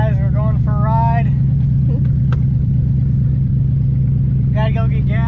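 A Dodge Magnum idles and rumbles with a steady low engine drone, loud and close, while people talk over it in short bursts at the start and end.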